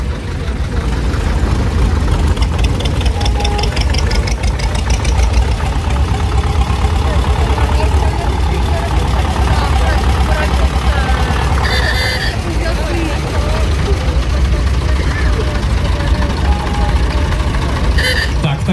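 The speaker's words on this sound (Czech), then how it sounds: "Traktory tovární nám zakončí zelený traktor se žlutými doplňky." A green tractor with yellow trim idles at a factory-tractor show, its steady, loud engine rumble running continuously throughout, with voices talking in the background.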